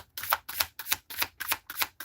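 Tarot cards are shuffled in a quick, regular series of about seven crisp riffling bursts, each a short papery flutter, close and clear with no voice over them.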